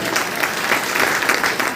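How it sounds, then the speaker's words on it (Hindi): An audience at a DXN business meeting in Basti, India, bursts into loud applause, dense steady clapping filling the whole short stretch. "आज से एक जोरदार ताली होनी चाहिए"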